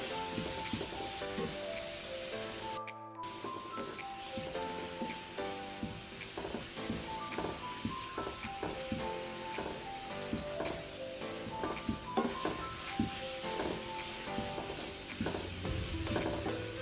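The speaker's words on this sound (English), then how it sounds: "I'm just going to give this a mix. Allow the spices to cook." Curry spices sizzle and fry steadily in a pan for lamb curry, with repeated scraping and clinking as they are stirred throughout, continuous and close with no talking.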